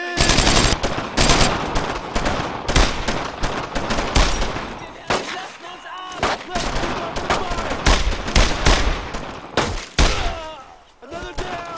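Gunfire in the World War II video game Brothers in Arms: Road to Hill 30, sustained loud machine-gun and rifle bursts crackling almost nonstop, with soldiers shouting over the shooting.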